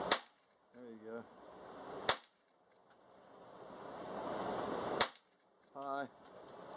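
A Norinco 22 ATD rifle, a Browning SA-22 copy, fires .22 rounds: three sharp, loud cracks spaced a few seconds apart, each with a short ringing tail, and a brief high metallic squeak between the shots.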